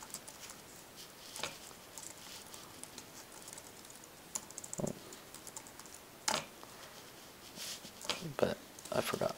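Typing Lua code on a computer keyboard for an Open Computers robot, with soft, irregular key taps and a few sharper clacks under a faint background hum, growing busier toward the end.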